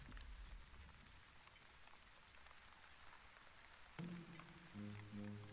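Rain falls in the city-builder game The Wandering Village, a soft, steady patter of drops that stays constant, with a few brief tonal game chimes appearing near the end.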